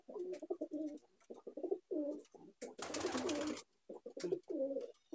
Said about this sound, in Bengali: এখানেও আছে দেখুন নর পায়রা। এই যে একটা চেন্নাই পায়রা